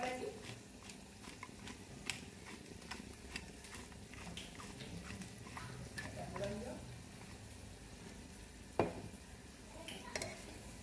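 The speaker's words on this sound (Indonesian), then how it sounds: "Tumis semuanya sehingga sebati" Salted fish and green chili are stir-fried in a pan, producing a steady low sizzle with scraping spatula strokes and a sharp clank near the end, while a voice talks over it.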